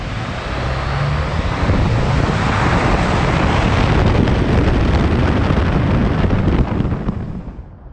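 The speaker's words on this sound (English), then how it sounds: "you're going to hear it revving in the parking deck" A 2019 Jeep Wrangler Rubicon two-door revs inside a parking garage, a loud roaring surge that swells, holds for several seconds and then fades, echoing off concrete with wind-like buffeting.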